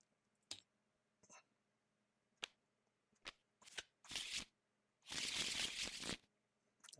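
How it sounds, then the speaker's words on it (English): Playing cards shuffled for a Marvel card game, a few quick isolated riffles and clicks building to two longer bursts of rapid shuffling, close and fairly quiet, no talking. "Shuffles and a draw."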